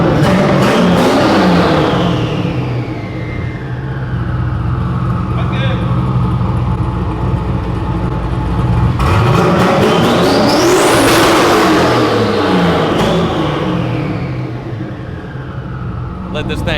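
A big-turbo Camaro SS engine idles and revs loudly up close, with rising and falling pitch as it is throttled, running steadily throughout while a person talks over it.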